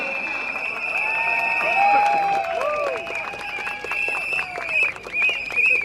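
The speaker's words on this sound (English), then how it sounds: "You deserve the loudest applause for yourself." Rally supporters standing in the rain applaud and cheer at a political rally for Sembawang GRC, with crowd noise and whistles under a blaring amplified voice and music over the outdoor space.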